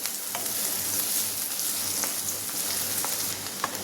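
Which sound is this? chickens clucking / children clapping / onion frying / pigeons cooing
onion frying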